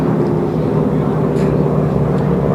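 A big red AT-6 racing airplane at the Reno air races roars past in a steady, loud, continuous engine drone with no break.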